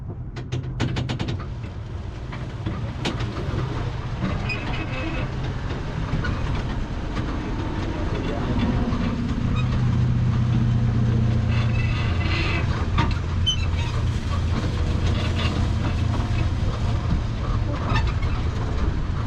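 Steady rumble and rattle of a museum tram in motion, wheels clacking over track with a constant low mechanical drone, no talking.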